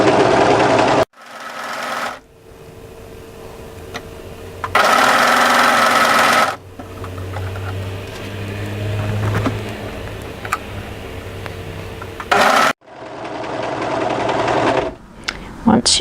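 A home sewing machine stitches a coat sleeve into its armhole, easing the larger sleeve piece in, running in several bursts of steady motor whirring separated by brief pauses, close by, with a person talking over parts of it.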